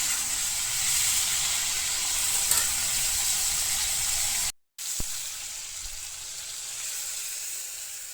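Potatoes and panch phoron spice frying in a wok give a steady, close hiss of sizzling oil, broken by a brief drop to silence before the sizzle resumes just as strongly.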